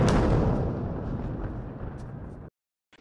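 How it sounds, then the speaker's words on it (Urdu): A heavy explosion booms in southern Beirut. It starts as a loud, dense roar and rolls off over about two seconds before cutting to silence. "وہاں ایک زوردار دھماکہ سنائی دیا"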